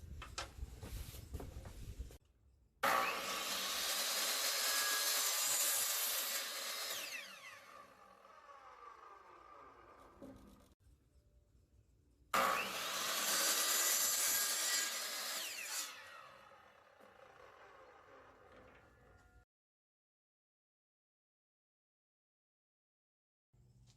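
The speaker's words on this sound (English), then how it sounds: "I'm going to take it now to the miter saw to get that cut" A miter saw cuts wood pieces for a mirror frame, two loud whining passes of several seconds each separated by a quieter pause, the blade spinning down afterward before silence.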